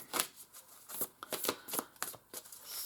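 An oracle card deck, the Moonology set, shuffled by hand in a quiet room, giving a series of soft, papery riffling bursts in an irregular rhythm. The sound is close and fairly faint, with no voices.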